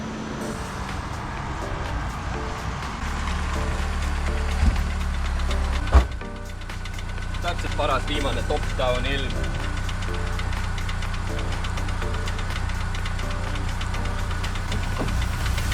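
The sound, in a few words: BMW Z3 V8 engine started and running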